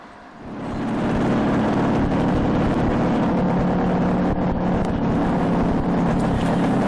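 Bantam two-stroke motorcycle being ridden, a loud sustained engine buzz mixed with heavy wind rush that builds in the first second and then holds steady throughout.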